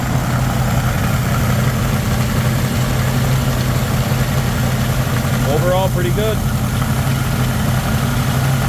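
A 1977 Pontiac Firebird with vacuum leaks idles high in a steady, rumbling drone that holds throughout, while someone talks briefly over it.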